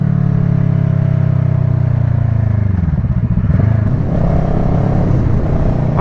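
A 2012 Kawasaki ER6N motorcycle, restricted to 35 kW, accelerates hard in second gear toward about 9000 rpm, its loud engine drone rising steadily in pitch with a gear-related dip midway, close and continuous.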